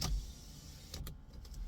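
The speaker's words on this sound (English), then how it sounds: "Just to put windows down, guys." Electric windows lowering in a Jaguar X-Type estate 2.2 diesel automatic, a short muffled motor whir inside the car with a few faint clicks, no voices.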